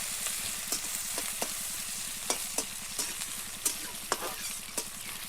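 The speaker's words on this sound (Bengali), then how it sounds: "পেঁয়াজটাও এবার আমি নাড়িয়ে চাড়িয়ে ভালোভাবে ভেজে নেব।" Chopped onions fry in hot oil for a Bengali shrimp dish while a spatula stirs them, giving a constant close sizzle punctuated by irregular sharp scraping clicks against the pan, with no talking.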